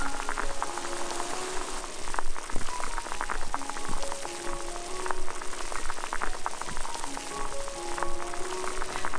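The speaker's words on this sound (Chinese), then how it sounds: "持续让它沸腾。" Sugar syrup for strawberry jam boils hard over medium-high heat, a dense continuous bubbling and popping crackle at steady close level.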